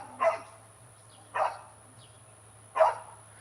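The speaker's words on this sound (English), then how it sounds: "We got the 2 dogs in the back." Dogs in the back give three short, separate barks spaced about a second apart, heard at moderate distance over a low, steady background hum.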